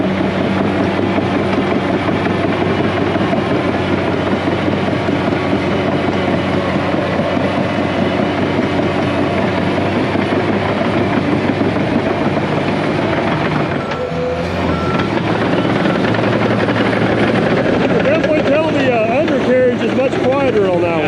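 The diesel engine of a bulldozer on a pond job, its new engine paint still burning off, runs loud and steady up close as a dense, continuous rumbling drone, with a voice talking over it.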